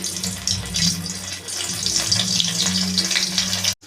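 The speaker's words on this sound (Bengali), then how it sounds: "অল্প অল্প করে দিয়ে ভাজবো" Gram-flour-coated tapse fish frying in hot oil in a wok, a steady bright sizzle with a hissing, watery texture that holds level throughout and cuts off abruptly at the end.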